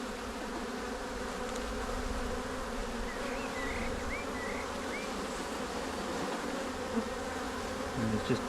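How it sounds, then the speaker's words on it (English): Honey bees buzz steadily inside an opened hive during an inspection, a dense, continuous drone close by with a few faint higher tones drifting over it and no talking. "And there's just tons of bees in here."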